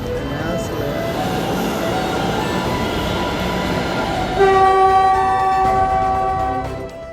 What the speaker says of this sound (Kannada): ಚಾಲಕರಿಂದಲೇ ಈ ರೈಲನ್ನು ಓಡಿಸಲಾಗುತ್ತಿದೆ